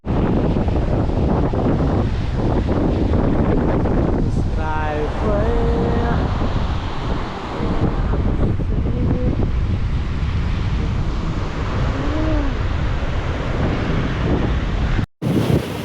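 Sea waves and strong wind on a beach, a loud continuous roar with heavy wind buffeting the microphone, and voices faintly mixed in beneath.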